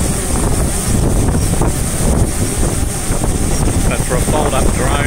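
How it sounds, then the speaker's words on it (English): A strong wind gust during a hover stability test of folding drones such as the Autel Evo, with heavy, continuous low buffeting and roar battering the microphone from start to finish. "Big gust of wind there."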